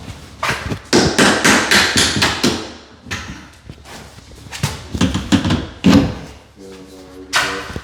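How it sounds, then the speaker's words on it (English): A hammer taps out the middle hinge pin on a prehung hollow-core closet door, delivering a rapid series of sharp close knocks and metallic clinks in irregular bursts, with a brief ringing tone near the end. "I'm going to pop the middle pin."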